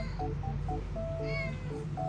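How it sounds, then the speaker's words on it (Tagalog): A cat named Casper gives several short, soft meows in quick succession, begging for food over a steady low hum in a quiet room. "Ang hina lang din mag-meow ni Casper"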